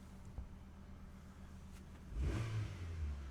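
A Hyundai Matrix engine idles low and steady, then revs up sharply around two seconds in and holds a raised, rough rev close by, with no talk.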